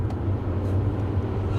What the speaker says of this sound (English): I just looked down and realized I'm going 80 miles an hour in a Hyundai